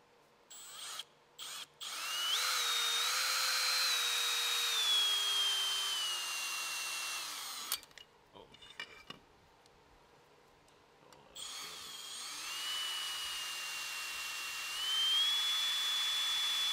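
A power drill fitted with a reverse drill bit whines at high speed during repairs on an S15 Silvia, running in long sustained bursts with a pitch that slowly drifts, then stops briefly with clatter before starting again.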